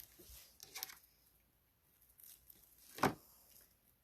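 A zip tie being fastened on a wire wreath frame, a quick sharp ratcheting zip near the end after some soft handling rustles, close and fairly quiet.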